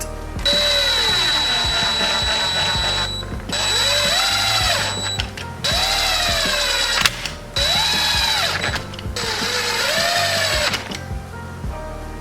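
An impact wrench running down the 10mm clutch bolts on a CR125 motorcycle bottom end, loud and close, in four long whirring, rattling bursts separated by brief pauses.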